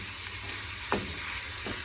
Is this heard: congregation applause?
no